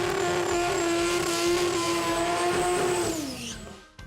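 A 4-cylinder or 2-rotor Pro Compact drag car screams at a steady high pitch during a drag racing event. The loud engine note drops away near the end as it passes into the distance.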